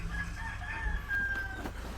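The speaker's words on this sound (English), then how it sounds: "That's that rooster crowing." A rooster crows at a distance, faint over a steady low rumble of outdoor background noise.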